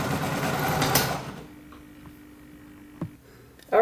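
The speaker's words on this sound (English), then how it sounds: "going to go to the machine, sew that seam down" A sewing machine stitches down a seam on a quilt block of half square triangles, a steady close whirring run lasting about a second and a half before stopping, followed by a few faint clicks and a brief handling noise.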